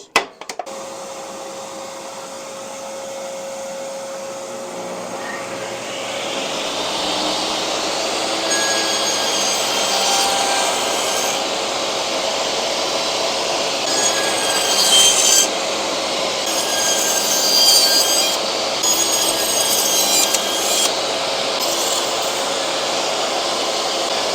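A table saw cuts a non-through rabbet across the end of a wooden board guided by a miter gauge. A steady motor whine starts things off, then a loud, sustained, rasping cut runs on without a break to the end.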